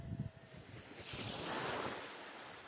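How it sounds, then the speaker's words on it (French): Sea waves breaking on open water, a low rumble of surf that swells into a long rushing wash, with wind buffeting the microphone and no voices. "Putain, ça commence à avoir des vagues."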